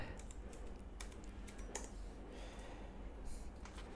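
Quiet clicks of a computer keyboard as a PIN is entered while setting up a hardware crypto wallet, a few scattered soft keystrokes over low room hum.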